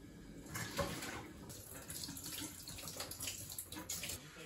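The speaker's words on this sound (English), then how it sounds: "I want to run some cold water over it so that it stops cooking" Tap water runs steadily, splashing and pattering through a colander into a sink, close by and fairly quiet.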